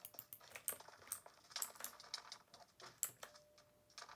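Someone types on a computer keyboard while playing Minecraft, with quiet, irregular close clicks and short bursts of keystrokes.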